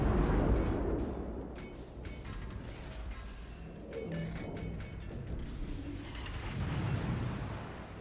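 Heavy naval artillery fire in a battleship video game, deep rumbling booms rolling one into the next over a sustained low roar, loud and near, with no talking.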